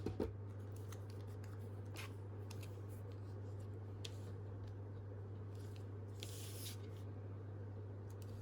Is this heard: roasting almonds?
no